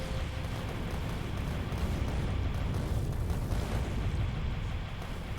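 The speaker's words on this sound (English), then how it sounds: "Missiles are destroying parts of the forest." Missiles exploding through a forest in Factorio, heard as a steady, dense rumble of blasts and crackling booms that runs without a break, with no talking.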